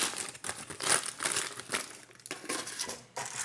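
Parchment paper crumpled by hand in a kitchen, with close, crackling crinkles that come in uneven bursts and short pauses.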